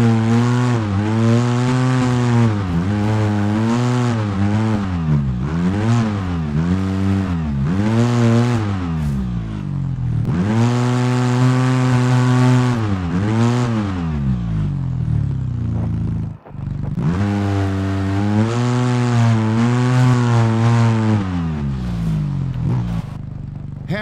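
An off-road vehicle engine in the video game Overpass labours while climbing a muddy slope, its steady droning tone rising and falling as the revs change, loud and continuous with one brief dropout.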